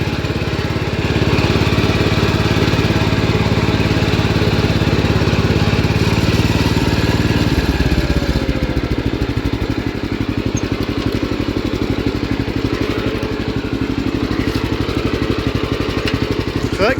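The engine of a 1973 Gravely 814 tractor fitted with a front drive kit runs loud and close, a steady chugging drone that shifts to a rougher, pulsing beat partway through, with no one talking.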